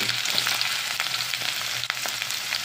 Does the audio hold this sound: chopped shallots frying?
yes